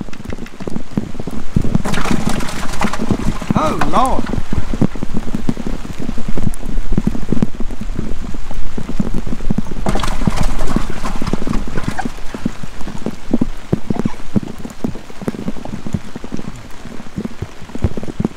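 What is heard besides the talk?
heavy pouring rain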